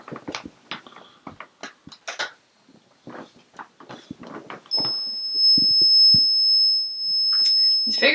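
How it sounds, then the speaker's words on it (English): A temperature alarm cuts in partway through with a loud, steady high-pitched tone that holds continuously, with scattered voices and clatter around it. "There's no air circulation that would cause that loud of a temperature alarm to go off."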